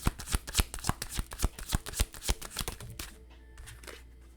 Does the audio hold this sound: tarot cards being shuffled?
yes